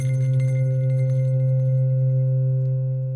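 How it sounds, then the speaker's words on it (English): Audiofier synth with its cloud arpeggiator switched off holds a steady, sustained drone with faint sparkly glints on top, continuous and even for the whole stretch with no voices. "you just get this kind of droney, twinkly sound"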